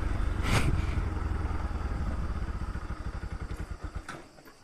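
A motorcycle engine, its rider struggling to find neutral, runs close by with an even, pulsing idle throb that quickens slightly and then cuts off abruptly near the end.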